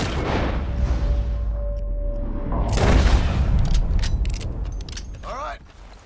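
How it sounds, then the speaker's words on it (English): Gunshots and booming blasts ring out in Red Dead Redemption 2, a few loud reports with echoing tails spread across the clip, mixed with rumbling and mechanical clatter. "What are you shooting for?"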